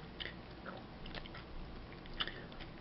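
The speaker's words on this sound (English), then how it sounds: "Really crunchy, and it's a definite kettle chip." Crunching and biting on New Orleans kettle-style potato chips with a vinegar, salty flavor, a few faint close-up crunches scattered over a quiet background with no talking.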